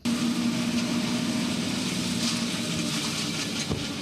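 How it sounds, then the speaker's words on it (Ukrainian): A tractor engine runs steadily while mowing grass on a farm in Tavriiske, a constant droning hum with no speech. "За кермом трактора Вадим косить траву з самого ранку"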